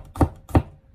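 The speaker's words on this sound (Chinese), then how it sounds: "然后再将它剁成蒜末" Two sharp knife chops on a cutting board as peeled garlic cloves are minced, each a crisp close thud, evenly spaced with no talk.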